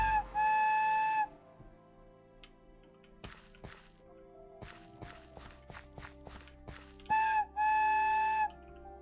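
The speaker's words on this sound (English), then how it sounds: "But we can still call the train with the whistle" A train whistle in a modded Minecraft world sounds twice, a sustained tonal blast at the start and again near the end, with a run of sharp clacks and footstep-like knocks between them.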